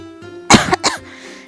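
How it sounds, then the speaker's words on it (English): A single short cough, with one or two harsh bursts, sounds close up over a steady low background of music in an otome game. "Sorry if I'm coughing on you guys."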